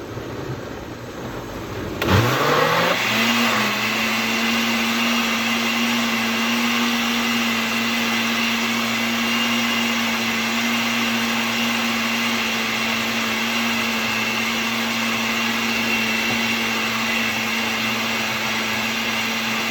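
A blender whirs steadily, mixing paper pulp for conserving comic book covers. It starts abruptly with a rising whine after a moment of near quiet, then holds a loud, even motor drone for the rest of the time, with no talking.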